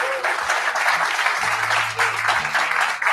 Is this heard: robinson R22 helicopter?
no